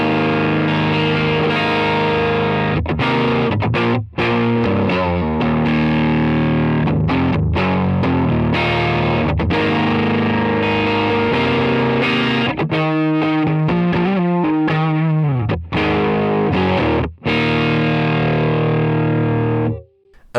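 Electric guitar played through a TONEX capture of a Deluxe amp with the gain maxed, giving a thick, creamy overdrive. Sustained distorted chords and riffs ring out loud and continuously, with brief cut-offs between phrases.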